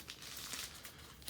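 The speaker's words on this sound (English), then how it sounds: "So I'm going to cut through the plastic" Plastic packaging around an Ultrasaber Dark War Glaive lightsaber is cut open, giving a continuous close crinkling and tearing rustle that runs steadily throughout, with no voices.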